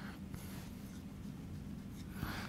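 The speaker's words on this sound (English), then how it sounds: "So we might write down a limit that looks something like this." Chalk or marker scratches and taps across a board while a math limit is written out, quiet and close, in short strokes with small pauses between them.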